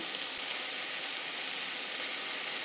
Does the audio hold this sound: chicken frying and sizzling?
yes